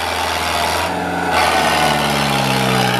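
ACE 450 tractor engine at a harrow challenge, running steadily and loud with a low throbbing drone that swells slightly as it revs, heard close with no talk.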